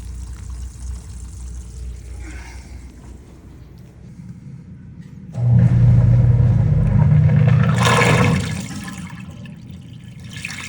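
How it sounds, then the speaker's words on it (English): A kitchen sink filled with a couple of gallons of water drains, a low rushing gurgle swelling in partway through, building to a loud sucking slurp near the end and then fading, with no speech. "fill the sink up with a couple of gallons of water and then just let it rip"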